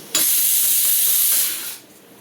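Steam hisses loudly and steadily from a lidded pot of mutton curry coming to the boil, starting abruptly and holding for over a second before fading away, with no voices.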